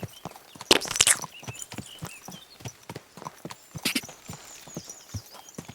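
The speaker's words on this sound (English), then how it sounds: "Trample his body with the horse." Rhythmic hoof clops of a horse moving at a steady walk in the video game Kingdom Come: Deliverance II, close and fairly loud, with a few sharper impacts and a brief whinny-like burst early on.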